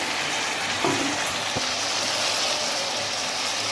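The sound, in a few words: mutton cooking in a pan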